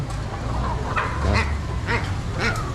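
Chickens cluck and squawk in a poultry section of a morning agricultural market in Luang Namtha, with repeated nasal calls over a constant low market hum.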